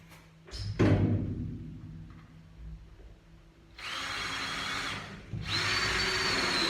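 A power drill bores pilot holes during a narrowboat fit-out. It opens with a few knocks and clatters, then two sustained whirring drill runs, each steady and close.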